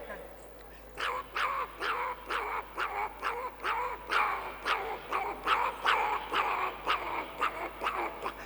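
A human voice imitates a puppy's crying, giving about a dozen short, whiny yelps in a steady rhythm, close up.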